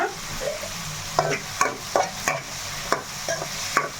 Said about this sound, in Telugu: ఈ ఉల్లిపాయలు మనం తొందరగా వేగడానికి కొంచెం ఉప్పు అయితే వేసుకుందాం